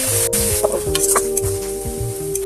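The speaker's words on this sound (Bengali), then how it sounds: "আদা মশলা দিয়ে খুব সুন্দর করে পেঁয়াজটাকে আরেকটু কষিয়ে নিব।" Onions sautéing in a pan with ginger paste and cumin paste, a steady close sizzle with scraping stir strokes from a spoon, no talk.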